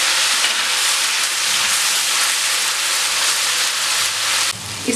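Onion paste fries in hot ghee with a loud, steady, close-up hiss that holds evenly, then drops off abruptly near the end.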